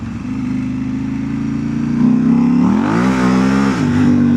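A KTM 890 Rally motorcycle engine revs hard on greasy, muddy off-road ground as the rear wheel spins, its loud close drone climbing in pitch then holding high, with no voices.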